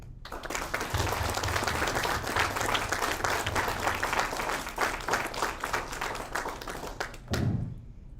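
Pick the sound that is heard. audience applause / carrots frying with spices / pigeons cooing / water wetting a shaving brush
audience applause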